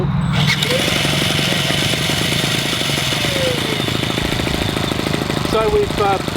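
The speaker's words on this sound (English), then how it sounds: "So basically we're just, running it up." A freshly serviced, untuned UAV helicopter engine buzzes loudly and continuously as throttle is raised, a rough high-pitched motor drone close by with voices faintly underneath.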